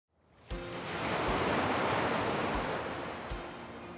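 Ocean waves surge and wash steadily onto the shore, a loud, full roar that swells and holds without any voices.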